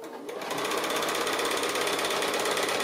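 A sewing machine stitches fabric applique for a quilt, starting after a brief pause and then running as a rapid, even mechanical whir of stitches, loud and close, with no talk.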